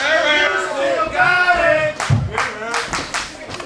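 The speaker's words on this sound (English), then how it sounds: "No, keep cheering for him." A crowd at a CWF Mid-Atlantic wrestling event cheers and claps for the longest-reigning champion. Loud vocal cheers run first, then sharp bursts of clapping and shouts follow, close and lively.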